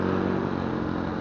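An old motorcycle of about 100 cc, modified and fitted with a worn carburetor, drones loudly and steadily at close range, its engine note rough and unbroken for the whole short stretch.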